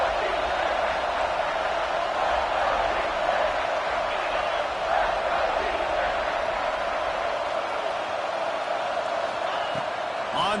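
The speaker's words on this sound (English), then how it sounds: "This crowd rising up, sensing that its defense needs some help." A stadium crowd in a college football video game, LSU at Clemson, roars in a steady, dense wall of cheering that rises slightly, with a commentator talking over it.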